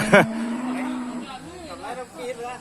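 A cow gives a long, loud, close moo at a northern Thai native cattle market in Nan, and someone talks over the end of the call.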